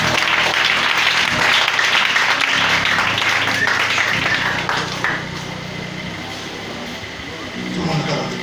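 Church congregation applauding and cheering in praise of the Lord, loud sustained clapping and crowd noise with voices mixed in, fading somewhat toward the end.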